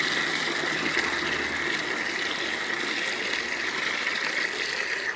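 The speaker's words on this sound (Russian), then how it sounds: "Набираем 10 литров воды." Water gushes steadily into a construction bucket as it fills with 10 liters, a continuous close rushing hiss without breaks.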